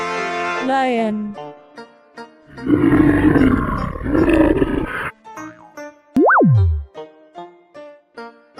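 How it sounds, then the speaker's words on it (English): A lion's roar from an animal sound collection: a loud, rough, sustained roar lasting about two and a half seconds, set between short cartoonish sound effects, with no talking over it. "Lion."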